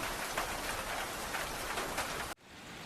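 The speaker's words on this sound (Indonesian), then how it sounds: "Aduh, hujan terus lagi." Heavy rain pours steadily in an animated cartoon, a dense even hiss that cuts off abruptly near the end and gives way to quieter ambience.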